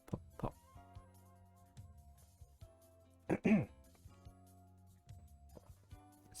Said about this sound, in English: Excuse me, gotta clear my throat.